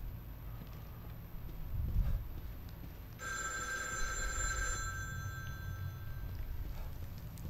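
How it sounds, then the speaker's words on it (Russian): A telephone rings in the horror video game The Evil Within 2, one bright, trilling burst of about a second and a half in mid-clip over a low, rumbling ambient drone. "Давайте ответим на звонок."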